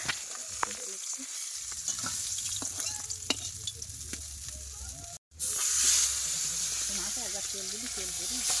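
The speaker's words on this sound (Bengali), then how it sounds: "মাছ ভাজা হয়ে গেছে" Fish seasoned with salt and turmeric fries in oil in a village kitchen in the Sundarbans, giving a steady close sizzle with scraping stirs, a brief cut near the middle, and faint voices in the background.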